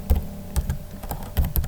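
Keys clatter on a computer keyboard as someone types code into a database setup, a quick run of close, distinct keystrokes in uneven bursts with no talking.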